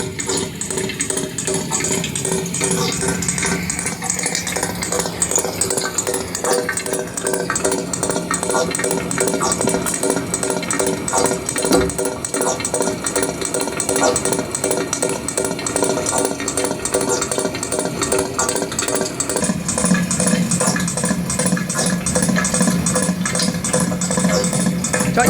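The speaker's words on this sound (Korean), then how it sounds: "이 소리가 바로 어, 왕복 압축기 기계 소리입니다" A reciprocating air compressor runs continuously nearby with steady mechanical chugging and rapid, regular pulses, with no talk over it.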